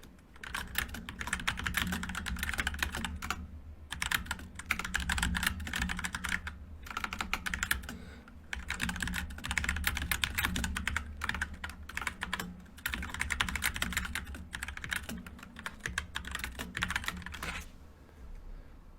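Keys on a computer keyboard clack in long runs of fast, close typing, broken by several short pauses, with a faint hum underneath and no talking.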